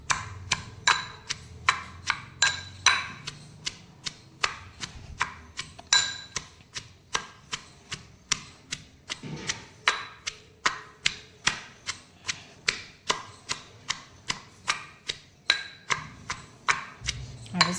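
Raw green mango being pounded for chutney, a steady run of sharp, evenly spaced thuds and cracks close by, repeating about twice a second for the whole stretch with no talk.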